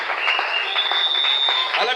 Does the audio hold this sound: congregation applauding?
yes